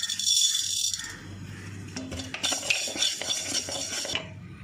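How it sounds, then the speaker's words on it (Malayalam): Fenugreek seeds go into a pan on the stove for roasting spices: a metallic rattle of seeds and a spoon against the pan, then scattered clinks and light scraping, close and moderately loud, without speech. "നമുക്ക് ആദ്യം ഉലുവ ചേർത്ത് കൊടുക്കാം."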